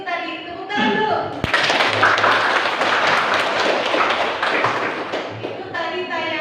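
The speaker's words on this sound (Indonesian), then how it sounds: "tepuk tangan dulu" A classroom group claps together in a short burst of applause, dense and loud for several seconds, with a teacher's voice heard before and after.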